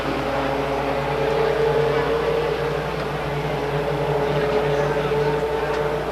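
Legends race cars running Yamaha engines lap a speedway, giving a steady distant engine drone with no single car standing out.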